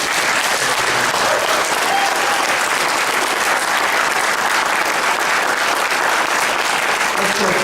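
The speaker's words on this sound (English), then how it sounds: "Let's please give all of these candidates a fine round of applause." Audience applause for congressional candidates at an open forum, a steady, dense wash of clapping filling the whole stretch without pause.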